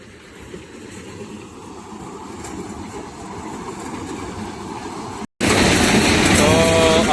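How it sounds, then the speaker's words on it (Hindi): A tractor runs in a maize field during harvest, making a loud, steady, rumbling mechanical drone that continues throughout, broken only by a brief cut near the end. "ये मेरे पीछे ट्रैक्टर चल रहा है, ये मक्का निकल रही है"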